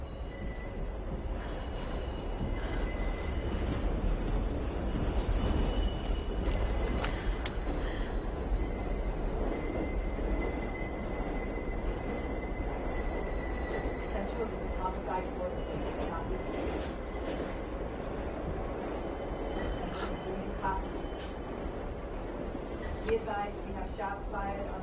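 A 6 subway train pulls into Grand Central with a steady heavy rumble, metallic wheel squeals and faint clicking, filling the station continuously with no clear speech over it.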